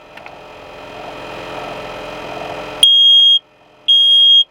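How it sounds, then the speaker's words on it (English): Two loud, piercing electronic beeps from a camper van smoke alarm being tested, each lasting about half a second, following a low background hum. "A must for any camper van is your carbon monoxide and smoke detector"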